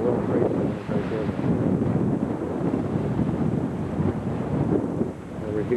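Strong wind buffets the microphone on a blustery day by the New York City skyline, a steady low rumble and roar that lasts throughout.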